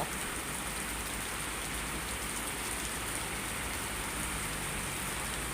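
Heavy rain pours steadily and loudly, a dense continuous hiss of drops hitting surfaces with no voices.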